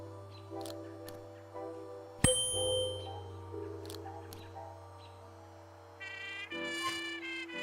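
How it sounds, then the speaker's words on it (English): A strength-tester bell in the Willy Morgan adventure game gives one bright, sharp ding over a soft looping musical background, followed later by fainter chiming tones. "There must be another way to make the bell ring."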